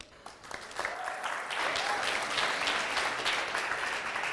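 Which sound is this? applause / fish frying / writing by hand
applause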